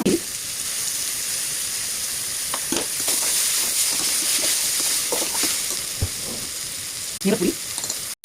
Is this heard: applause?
no